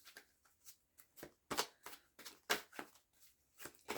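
Tarot cards are shuffled by hand in a quiet, rhythmic run of soft papery riffles and slaps, each burst short and close, repeating about every quarter second with no talking.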